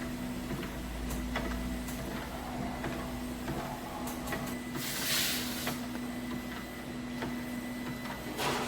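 A sweet-making machine forming brigadeiro-style filled candies runs with a steady mechanical hum and rhythmic clicking, plus a brief hiss partway through, continuous and alone with no voices.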